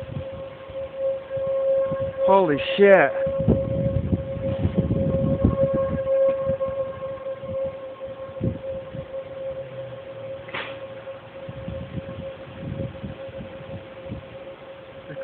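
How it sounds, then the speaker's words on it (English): Civil defense sirens wail outdoors during a storm in Omaha, Nebraska, a steady distant tone running throughout under wind and a person's voice. "there's the sirens again. There's the sirens."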